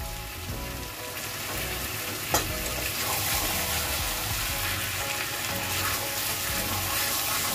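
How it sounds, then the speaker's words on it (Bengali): Chicken curry with fried potatoes sizzles steadily in a hot pan with continuous stirring and scraping. A single metallic clank sounds early on, and the frying stays close and even throughout. "ভেজে রাখা আলুগুলো মাংসের মধ্যে দিয়ে দেবে"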